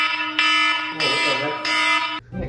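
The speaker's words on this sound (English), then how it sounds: "to wake him up, I'm gonna play an alarm" A loud electronic alarm plays in repeated pulsing bursts, a harsh buzzing tone sounding for about two seconds before cutting off, followed by a brief rustle.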